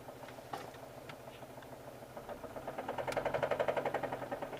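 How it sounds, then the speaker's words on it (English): A 2007 Saturn Ion idling rough and shaky after a cold start, a low uneven engine hum that swells into a pulsing, faintly knocking rhythm, heard close with no talk. "this car's kind of shaky, and it shouldn't be shaky, so you know she's not running right"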